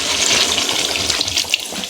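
Water pours and splashes into chicken curry simmering in a pot over a wood-fired stove, a brief steady gush close by with no voices.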